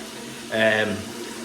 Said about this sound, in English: So we'll let it flush through a couple more times just to double check.